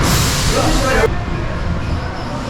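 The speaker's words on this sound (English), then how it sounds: "as this train goes into the station" The Loch Ness Monster roller coaster train at Busch Gardens Williamsburg rumbles loudly and close, then the roar drops off abruptly to a lower, quieter rumble as it enters the station.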